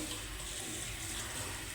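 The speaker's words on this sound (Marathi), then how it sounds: "बघा किती घाण पाणी निघते," Dirty reddish water from washed leafy vegetables pours out in a short, steady splashing stream, close and alone.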